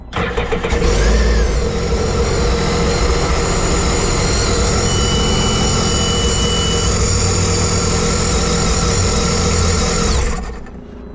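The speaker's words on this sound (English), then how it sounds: "So we're gonna start it up." A saltwater-worn Sea-Doo RXT personal watercraft engine cranks and starts, then runs loudly and steadily close by for about ten seconds before cutting off.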